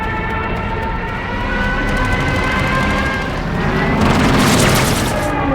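A fighter plane engine drones steadily in a Dunkirk (2017) war scene, swelling louder toward the end of the clip, with a rushing roar building over a deep rumble.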